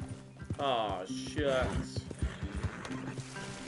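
A horse in the Red Dead Redemption 2 video game clip-clops along and lets out a loud, shaky whinny, with hoof steps continuing under a voice.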